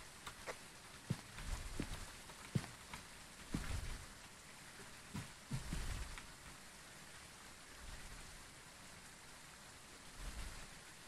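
Steady rain in the ghost-hunting game Phasmophobia, falling as a soft, even hiss with scattered patters and faint low rumbles, quiet and continuous with no voices.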